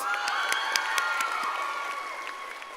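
Commencement audience at a health professions school cheering and applauding after officers are introduced, a steady wash of clapping with scattered whoops and shouts, fairly distant and moderately loud throughout.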